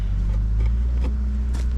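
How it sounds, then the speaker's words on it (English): A tractor doing earthwork at an off-grid camper site rumbles steadily in the background, a low continuous engine drone with no talk over it. "You can hear the tractor in the background because Gary's hard at work and doing some terraform"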